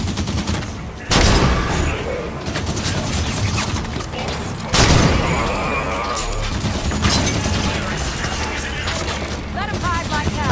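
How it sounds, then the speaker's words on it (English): Auto turrets firing in Halo 5 with sustained rapid gunfire, booms and mechanical clatter, loud and continuous, with in-game voices underneath. "Turrets on and firing."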